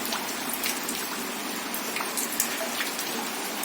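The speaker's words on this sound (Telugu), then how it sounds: "వర్షం చూడండి." Heavy rain falling outside at night, a steady hiss of drops striking surfaces with scattered louder splashes, even and continuous with no voices.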